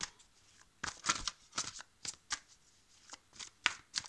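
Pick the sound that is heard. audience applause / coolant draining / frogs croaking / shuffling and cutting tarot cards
shuffling and cutting tarot cards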